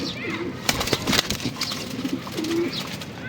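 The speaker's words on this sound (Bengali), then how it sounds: "এগুলো সব ভাই জেনারেল লাইনের কবুতর ভাই" Domestic pigeons of a general line coo in low repeated phrases, with soft wing flutters and other birds nearby, under a steady background of a bird loft for sale.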